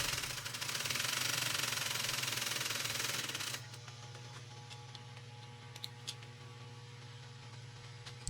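A sewing machine stitches upholstery fabric in a dense, rapid mechanical chatter for a few seconds, then stops, leaving a low hum with a few light ticks and clicks.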